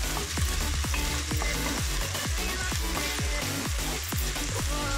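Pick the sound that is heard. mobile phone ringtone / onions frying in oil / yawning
onions frying in oil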